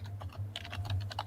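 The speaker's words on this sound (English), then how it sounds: "Furious typing." Rapid, furious typing on a computer keyboard, a quick uneven patter of clicks close by over a low steady hum, with no voices.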